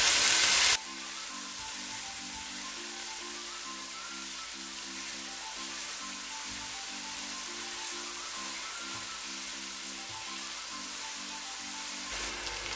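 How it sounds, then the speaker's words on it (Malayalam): Onions and salt sautéing in a pan while a Kerala kappa biryani is cooked, giving a steady, close hiss of frying that runs evenly throughout, with a low, rhythmic hum in the background. "ആവശ്യത്തിനുള്ള ഉപ്പും കൂടെ ഇട്ട് കൊടുത്തിട്ട് നന്നായിട്ടൊന്ന് വഴന്ന് വരാൻ വേണ്ടിയിട്ട് നമുക്ക് വെയിറ്റ് ചെയ്യാം"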